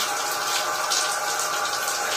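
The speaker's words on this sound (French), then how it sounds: "on se rince les cheveux, on les mouille bien" Water runs steadily over hair being rinsed and soaked during a wash, a continuous close hiss of flowing spray with no voices.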